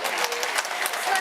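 Audience applause for race cyclists at the Roche aux Fées amateur road race podium in Brittany, a continuous broadband wash of clapping and crowd noise, steady and fairly loud throughout.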